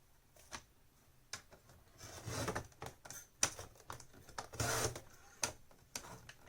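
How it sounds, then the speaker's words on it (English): A blade trims paper for an envelope mini album in short, scattered cuts, with sharp slicing strokes and soft scrapes at close range and quiet gaps between them. "now I'm gonna trim from the bottom"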